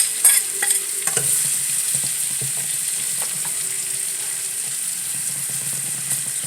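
Salted fish fries in a pan with a constant bright sizzle and crackle for several seconds. Occasional clinks and stirring scrapes rise over it, with no talking.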